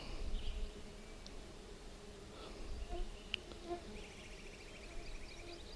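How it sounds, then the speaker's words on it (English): Bees buzz steadily in a sunny sequoia grove along the Grant Loop in Kings Canyon National Park, a faint continuous insect drone with occasional flies passing close, no talking. "There's a constant buzz in the air from these bees."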